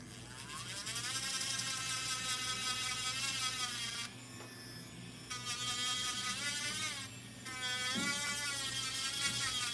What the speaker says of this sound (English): Now let's come in with our sandpaper